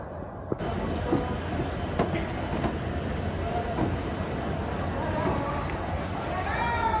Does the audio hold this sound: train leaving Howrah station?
yes